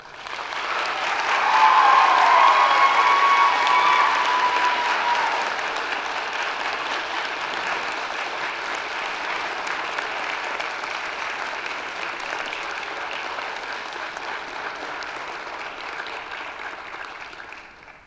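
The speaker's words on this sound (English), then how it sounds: "a round of applause" A large audience at a college convocation ceremony applauds for the faculty, a broad roaring wash that swells in the first few seconds, then settles into a long, steady, slightly softer ovation before fading.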